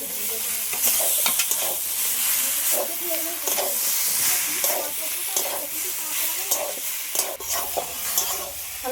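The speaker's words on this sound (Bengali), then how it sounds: "হালকা করে সবগুলো একসাথে একটু নেড়ে চেড়ে নিয়েছি" Vegetables such as cauliflower with ground spice paste stirred and frying in a pan for a green tomato and fish curry, a steady loud sizzle with repeated scraping stirs throughout.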